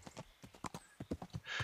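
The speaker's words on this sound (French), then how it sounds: "Je vais essayer d'y aller à cheval" Rapid rhythmic clip-clop of horse hooves galloping in the video game Kingdom Come: Deliverance, fairly quiet and close, ending in a brief burst of rustling through dense bushes.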